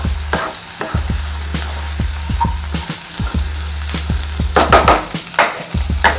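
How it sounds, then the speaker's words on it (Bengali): Ingredients for mutton korma sizzle steadily in a hot pan with a close, continuous crackle, interrupted by repeated stirring scrapes and clinks of a utensil against the pan. "এবার এটাকে আমরা একটু ফ্রাই করে নেব।"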